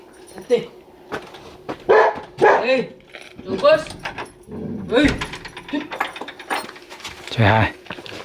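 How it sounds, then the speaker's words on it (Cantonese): A dog on a roadside home in Kyrgyzstan barks a few short times amid a travelling cyclist's surroundings, the barks mixed in with close, lively talk from people nearby and some jangling. "有隻狗仔啊！"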